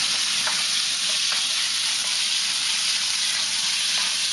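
Beef fajita meat sizzling in a hot pan, a dense, constant hiss of frying that runs close and loud from start to finish with faint pops and ticks.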